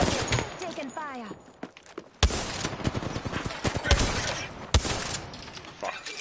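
Dense bursts of gunfire in the video game Apex Legends, fast crackling shots with sharp loud impacts near the middle and end, over constant game noise and players talking.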